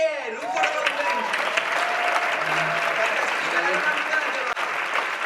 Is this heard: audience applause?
yes